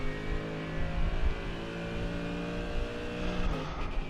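A GT3 race car engine in a racing game on the Daytona road course drones loudly and steadily, its harmonic whine holding with brief dips as it works up through the gears.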